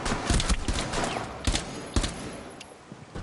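Rapid gunfire bursts from Rainbow Six Siege, a sharp cluster of shots at the start followed by a few louder single cracks over game background noise.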